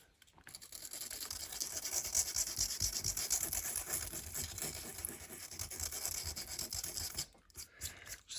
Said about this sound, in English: I'm going to take my little sanding discs